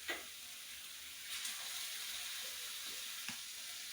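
Meat browning in a pan for a homemade breakfast pie, with a soft, steady sizzle and occasional scraping taps as it is stirred, fairly quiet and close.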